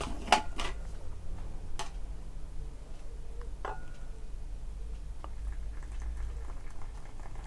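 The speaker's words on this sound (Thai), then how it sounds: "น้ำร้อนจะจัดเลยนะครับ เต็มแก้วพอดีก็ 150 ml พอดีนะครับ" Hot water pours into a glass holding a 30-gram sachet of Thai milk tea powder, filling it to about 150 ml. A continuous soft, bubbling liquid rush is heard nearby, with a few faint clinks and no talking.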